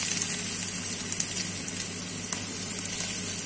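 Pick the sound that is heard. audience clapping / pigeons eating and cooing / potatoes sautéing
potatoes sautéing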